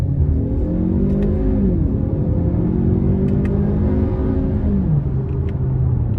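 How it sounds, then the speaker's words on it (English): A 2017 Lincoln MKC with a 2.0 turbo four-cylinder pulls hard from a red light in sport mode, its engine droning and rising in pitch through upshifts, heard loud from inside the cabin. "next I'm gonna put it in sport mode and give it a pull coming out of this red light"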